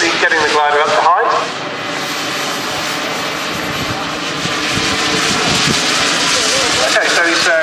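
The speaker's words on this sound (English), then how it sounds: "So he's put on full power, he's getting the glider up to height." A model glider's motor, identified as a turbine, runs at full power while the plane climbs to height, giving a loud, steady whine and roar throughout with a brief dip early on. Outdoor wind noise sits underneath.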